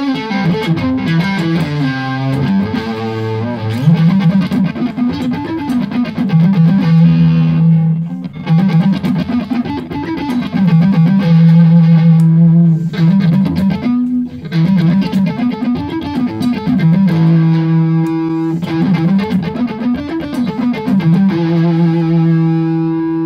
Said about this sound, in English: So now we're on the neck pickup, you can really hear it's got some real nice fat beefy tones